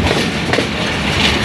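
The Hazara Express passenger train runs on rails near Kotri Junction, heard from the last coach as a loud, continuous rumble with faint clatter and no talking.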